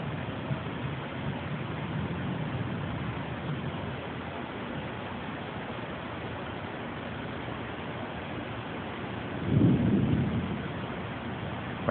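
Steady, hissing rain falls during a lightning storm, and a low rumble of thunder swells briefly near the end before the rain noise continues alone.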